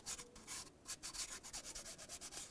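Light sandpaper rubbed over an aluminum engine block on a 2004-2009 Dodge Durango, a quick rhythmic back-and-forth scratching, close up and steady, with no talking.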